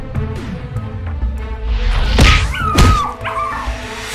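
An animated dog in an Among Us cartoon barks and yelps, with several sharp yips and a whimpering howl rising over a backing music bed, loud and close.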